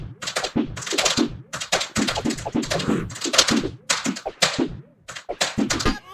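Fast, rhythmic bursts of clacking keys on a computer keyboard, close and fairly loud, broken by short pauses between runs of typing.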